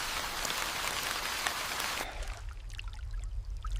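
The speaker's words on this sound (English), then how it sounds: "Rain begins to fall lightly." Light rain patters steadily in a soft, even hiss that thins after a couple of seconds into scattered drops over a low rumble, at moderate to faint level with no voices.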